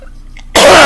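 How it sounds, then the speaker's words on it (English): A single sharp throat clearing erupts after half a second of near silence, close and loud, a brief harsh burst of breath. "I'm clearing my throat."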